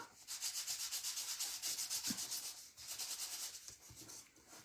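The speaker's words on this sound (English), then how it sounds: "I've got a nail file here. I'll see how well this will work. And you can sand your paper." Quick back-and-forth rasping strokes of a nail file rubbing on paper, close up, in steady rhythmic bursts with a short pause midway.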